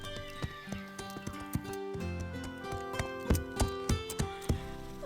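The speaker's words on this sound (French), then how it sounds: "Zoé monte son nouveau cheval et elle ose le faire devant la pauvre Pepper." Hooves clip-clop in a French-dubbed cartoon as a horse is ridden, a steady rhythmic series of hollow knocks that gets louder toward the end, over animated background music.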